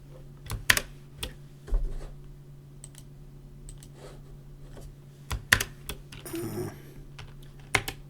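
Keys clatter on a computer keyboard in irregular bursts of clicks and taps with short gaps, close and moderately loud over a steady low hum.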